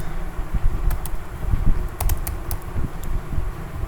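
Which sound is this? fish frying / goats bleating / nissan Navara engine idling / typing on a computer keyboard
typing on a computer keyboard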